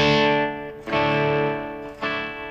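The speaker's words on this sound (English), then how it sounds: "you're hearing the gate kicking in and out" Distorted electric guitar through a Marshall YJM100 signature 100-watt head, sustained notes chopped off abruptly as a noise gate cuts in and out, with brief gaps between phrases.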